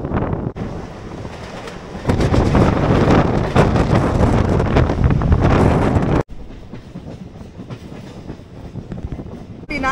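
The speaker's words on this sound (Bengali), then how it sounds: "ট্রেন ভালো স্পিডে চলছে।" A local train on the Kolkata–Digha line runs at high speed, with loud, steady rumble and rattle of the carriages and heavy wind buffeting the microphone, briefly dropping quieter near the end.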